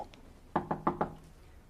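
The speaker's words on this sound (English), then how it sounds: "when we knocked at the door" Knocking on a bedroom door in a radio drama, four quick, evenly spaced knocks close by and fairly quiet, with no voices over them.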